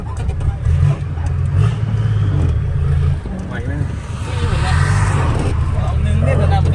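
Car with a newly fitted turbo, a TF08 build, accelerating in a low, steady engine drone that holds loud and close throughout, with people talking over it.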